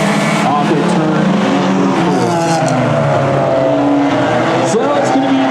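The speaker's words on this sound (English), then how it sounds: "It's the green flag. It's in the air. We are racing off the turn." Race cars in a Hornet-class oval race surge off the turn under the green flag, engines droning loud and steady for several seconds with pitch sweeping upward, a commentator talking over the roar throughout.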